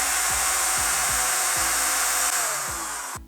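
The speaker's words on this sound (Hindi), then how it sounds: "तो चलिए हम इसमें ड्रिल मशीन की मदद से होल कर" An electric drill bores a hole in a plastic end cap for a homemade plastic-bottle gulal gun, its whine rising and dipping in repeated surges before spinning down at the end.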